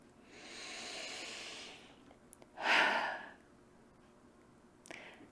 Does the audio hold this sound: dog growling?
no